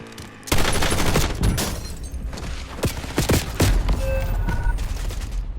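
Heavy gunfire and explosive booms in the video game Call of Duty: Warzone, loud overlapping shots and impacts with a few sharp cracks, continuing throughout under game tones.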